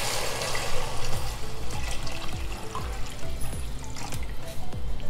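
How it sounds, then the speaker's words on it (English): Water poured into a cooking pot over browned ingredients, a steady trickling splash running continuously and fairly close, with no talking. "now all I'm going to do is add some water to the pot"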